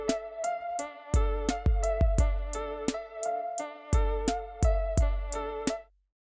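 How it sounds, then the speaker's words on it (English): A hip hop beat programmed in Drambo, with added hi-hats ticking steadily over deep booming kicks, snare hits and a melodic synth pattern; the beat plays alone, loud and close, and stops abruptly near the end. "We're gonna tap in here and just add some more hi-hats."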